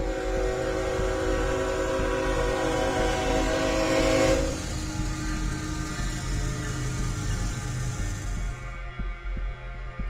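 Train rolling through a level crossing in Poland, a loud continuous rumble with a sustained horn-like tone for the first few seconds, then steady wheel and carriage noise that fades toward the end.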